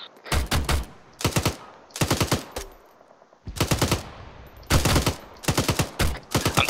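Bursts of automatic fire from a grenade machine gun in the military video game ArmA 3. Several loud, rapid volleys come one after another with short pauses between them.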